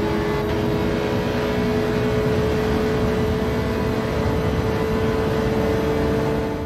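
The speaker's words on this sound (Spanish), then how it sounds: "Pero ¿cómo suena el coche de delante, por Dios?" A racing car engine in the Gran Turismo 7 video game drones at a steady, loud pitch throughout, a sustained whine with no speech over it.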